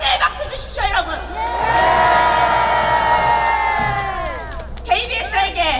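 A crowd at an outdoor political rally cheering loudly, with a sustained swell of shouting and whooping in the middle, framed by scattered shouts and voices at the start and end.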